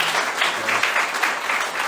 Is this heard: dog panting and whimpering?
no